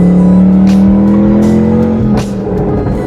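A loud 2012 twin-turbo Ford Mustang Boss 302 engine of over 900 hp drones steadily at high revs, with whooshing bursts of boost and a shift in pitch near the end.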